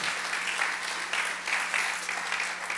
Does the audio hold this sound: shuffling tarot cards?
no